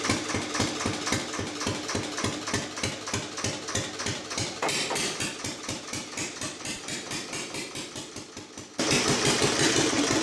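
An Armstrong Siddeley AS1 small experimental diesel engine running steadily, a close, even chugging beat that slows slightly before picking back up louder near the end.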